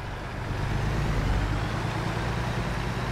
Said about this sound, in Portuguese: Como eu sei que vocês gostam muito do som do motor do caminhão